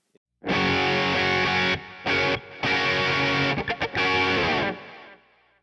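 An electric guitar, a Sabre, plays sustained, overdriven chords with a dark, thick tone, with a few short gaps and choppy strums before ringing out.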